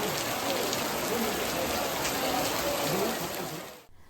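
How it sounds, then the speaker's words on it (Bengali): Heavy monsoon rain pours onto surfaces in an Odisha village, a dense, loud, steady hiss of rainfall with no voices before it drops away abruptly at the end. "ପ୍ରବଳ ବର୍ଷା ହେଉଛି।"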